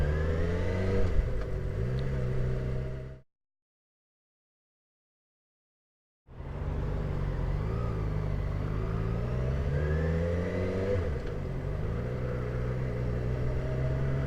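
A Yamaha XJ6F motorcycle engine hums and revs steadily during a morning ride, loud and close with shifting pitch, broken by a few seconds of dead silence midway before the engine sound resumes.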